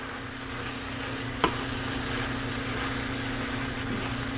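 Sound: stirring lime juice into sizzling food in pan

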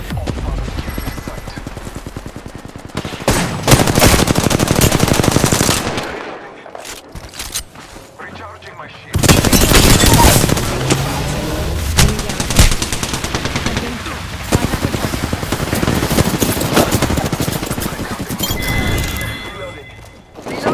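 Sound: gunfire in video game Apex Legends

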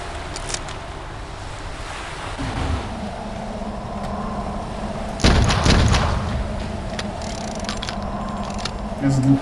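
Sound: gunshots in the video game Clive Barker's Undying

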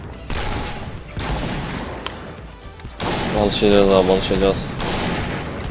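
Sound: gunfire in the video game Point Blank

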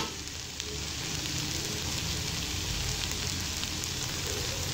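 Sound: cooking oil sizzling on boiled potato slices in a pan

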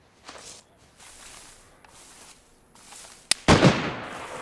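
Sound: gunshots in DayZ video game

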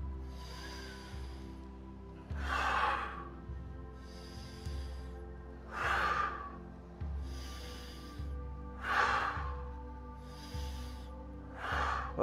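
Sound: slow deep breathing during a breathing exercise

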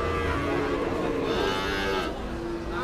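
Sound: cattle mooing at a cattle market

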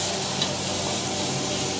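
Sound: cook stir-frying food in a wok

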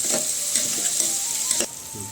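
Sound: vegetables sautéing in a pan

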